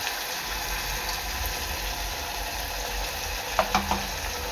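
Ground masala paste hitting hot oil with browned crushed garlic in a pan, a steady soft sizzle and frying hiss throughout, with a few brief clinks of a spoon near the end.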